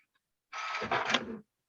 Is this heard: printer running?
yes